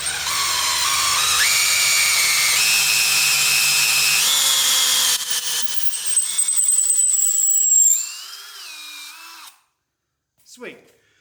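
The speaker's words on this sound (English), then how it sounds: "Lube everything up. That way you don't dull out your drill bit." A power drill whines loudly and steadily while boring lug stud holes in the wheel hub of a Jeep FSJ Cherokee Chief, its pitch stepping upward as it works, then winding down and stopping.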